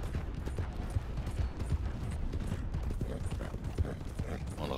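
Horse hooves clopping at a steady riding pace in Red Dead Redemption 2 Online, a continuous rhythmic clip-clop close by with faint game sounds around it.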